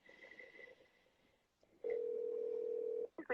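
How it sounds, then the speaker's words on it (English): A telephone ringing on an outgoing call, one long steady ring tone after a short stretch of muffled background sound, followed by a brief start of another tone. "Okay, Sarah, now answer your dang phone."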